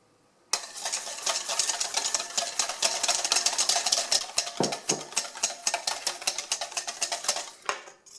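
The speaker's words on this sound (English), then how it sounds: "you're going to be putting tiny little bits of the oil in and whisking that in" A whisk beats oil into mayonnaise by hand in a bowl, making a fast, steady, rhythmic clatter of wire against the bowl that starts abruptly, runs close and continuous, then slows to a few final strokes.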